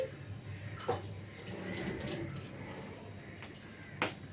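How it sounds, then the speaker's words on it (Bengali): Hands are washed under a running kitchen tap, with a soft steady trickle of water and a few brief splashes, while a quiet voice talks nearby. "আমি হাতটা ধুয়ে নিচ্ছি"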